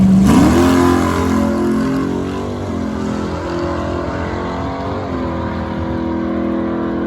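A Barracuda drag car launches from a red light start and races down the strip, a loud, continuous engine roar with a sharp burst at the start that settles into a sustained drone.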